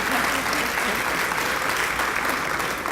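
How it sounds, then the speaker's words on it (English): A room of guests at a retirement dinner applauds steadily, a dense, even wash of clapping that holds at full strength for a few seconds without pause. "let's give her a round of applause"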